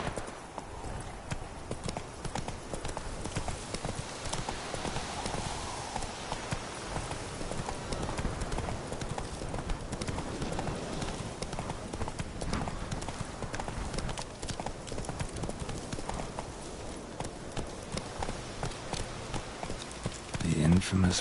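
Hooves of the horse Roach clip-clop steadily at a trot through The Witcher 3: Wild Hunt, a continuous even rhythm over game ambience, with a voice talking briefly near the end.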